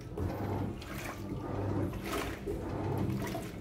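Water gushes hard and steadily into an open single-tub washing machine, a continuous rushing, splashing flow at close range with slight surges in strength.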